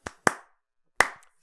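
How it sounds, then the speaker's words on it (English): Three sharp hand claps, two in quick succession and a third after a short pause, close and crisp with no talking. "3 claps for Bandai on this one."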